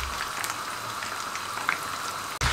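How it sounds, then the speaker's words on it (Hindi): Chicken pakora deep frying in hot oil gives a steady, busy sizzle and crackle with scattered pops, continuous and fairly close, with a brief clunk near the end. "इसको भी सेम प्रोसेस से हम फ्राई करेंगे"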